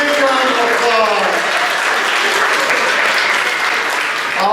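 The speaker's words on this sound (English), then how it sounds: "Give a big round of applause." A crowd claps steadily in a strong, continuous burst of applause, with voices cheering and calling out over it the whole time.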